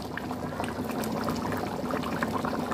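Thick fish curry made with seer fish bubbles and simmers steadily in a pot nearby, a continuous soft gurgling with no talking.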